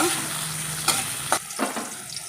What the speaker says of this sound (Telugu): కొంచెం నూనెతోనే ఇందాక ఎండుమిరకాయలు తీసాను కదా ఆ నూనె అది ఇప్పుడు టమాటా ముక్కలు ఉన్నాయి కదా వేసేస్తాను